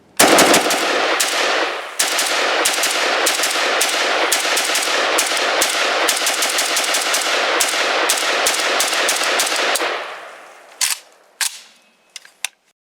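An M90 AK-pattern rifle in 5.56 fired at a range, a long fast string of loud sharp shots close by for about ten seconds, then a few scattered single shots and quieter clicks.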